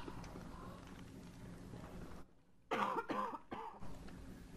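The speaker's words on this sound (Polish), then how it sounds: "I znowu kaszel." A character coughs in the modded survival game Don't Starve, a short cluster of close, rough bursts over a steady in-game background.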